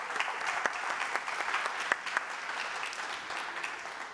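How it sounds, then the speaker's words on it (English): Audience applause at Google I/O following a product demo: steady, dense clapping from a large crowd, with a few sharp individual claps standing out, moderately loud and without speech throughout. "Can we get a round of applause for a flawless demo execution?"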